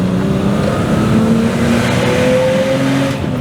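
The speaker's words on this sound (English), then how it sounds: "Driving my 1989 BMW 530i manual." A 1989 BMW E34 530i with a manual gearbox cruising along, its engine drone steady and loud from inside the cabin, pitch rising slowly through the gear.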